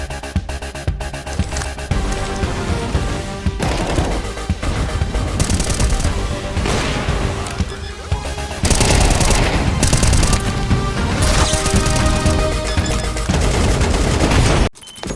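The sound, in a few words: gunfire in the video game Counter-Strike 2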